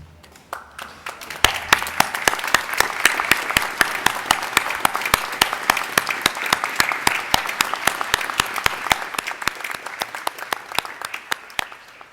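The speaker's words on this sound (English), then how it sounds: "join with me in thanking them with applause" Graduates at a university graduation ceremony turn to applaud their family and friends; a large hall fills with sustained, loud clapping and sharp individual claps for about twelve seconds, easing slightly toward the end.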